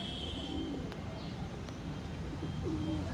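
A pigeon gives a few soft, low coos close by over a constant background hum.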